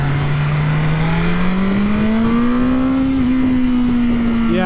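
A 2023 BMW S1000R motorcycle engine revs up smoothly on a test ride, its pitch climbing steadily and then holding high. The sound is loud and close, with wind rush and faint voices beneath it.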